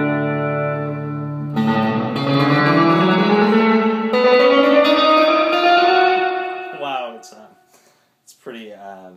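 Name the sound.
guitar through BYOC MojoVerb reverb pedal, reverb cranked up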